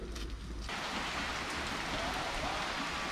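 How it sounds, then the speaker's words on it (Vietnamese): Rain sets in and becomes a steady, close hiss of drops falling on surfaces, starting abruptly just after the clip opens and continuing loud and dense throughout. "mưa tới à."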